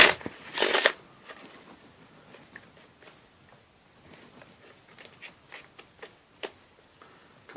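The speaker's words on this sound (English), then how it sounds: "And then you can even have the spectator shuffle the cards." A burst of riffle shuffling opens, followed by quieter scattered card handling, soft flicks and taps, close by with no talking.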